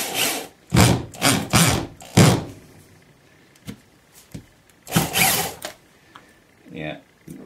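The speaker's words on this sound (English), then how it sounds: "Drilling rubber is just priceless." A power drill whirs in several short bursts, boring holes through rubber into a backup board close by, with pauses and faint handling noises between runs.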